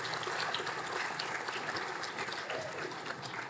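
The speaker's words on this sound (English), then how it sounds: "Please give a warm round of applause to the practical nursing graduates of October 2019." Steady applause from a graduation ceremony crowd for practical nursing graduates, a dense, even clatter of many hands that holds at a constant level throughout with no voices standing out.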